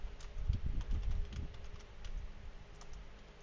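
Keystrokes clatter on a computer keyboard in irregular bursts of typing, fairly close and fairly quiet, with the clicks clustering early and then thinning out into sparse taps.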